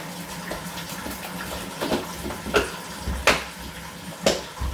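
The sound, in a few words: hot water running from tap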